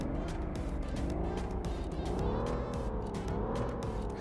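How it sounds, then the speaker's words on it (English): Engine of a BMW 750i E38 in City Car Driving, a virtual reality driving game, running with a steady pulsing hum and a rising, wavering tone as it revs after starting, close and continuous, no speech. "So let's boot up the car. Let's hear that engine."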